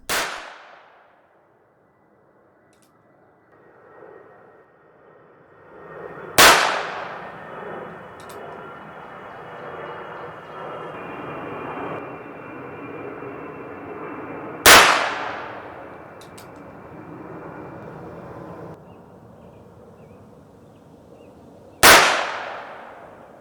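Four sharp, loud gunshots from a Pietta revolver fitted with a .45ACP conversion cylinder and firing light, underpowered loads, spaced several seconds apart, each with a brief ringing decay and quiet pauses between.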